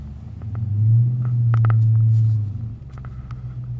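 A 6-speed manual Dodge Challenger SRT 392 cranks and fires up, its deep engine rumble swelling loud and steady up close, then settling into a lower idle.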